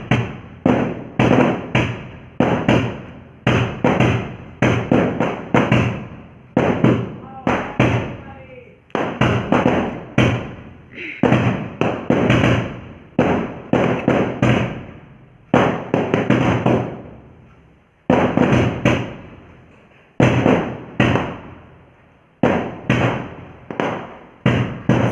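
Firecrackers and bombs burst outside in a rapid, relentless barrage of loud sharp bangs, dozens of cracks and thumps following one another with hardly a pause.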